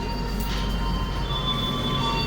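Inside the executive class car of the Parahyangan train running from Bandung to Purwakarta, a steady rumble of wheels on track fills the cabin, with a faint high squeal over the continuous noise.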